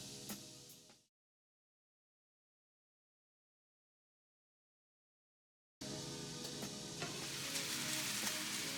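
Beef Spanish rice cooking in a pan gives a steady close sizzle that cuts out into a long silence, then returns as dense, louder frying crackle with faint stirring scrapes.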